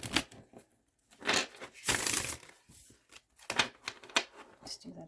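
Tarot cards are shuffled in quick, crisp riffles, several bursts of papery flicking close by with short pauses between them.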